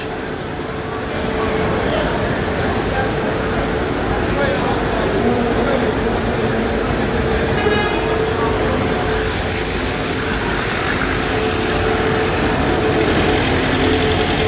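A heavily loaded white minibus idles at a Kocaeli earthquake relief aid centre, its steady engine rumble continuous and fairly loud throughout, with voices and general yard activity mixed in.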